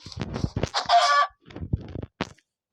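A video game chicken clucks and squawks in several short, close bursts separated by brief pauses.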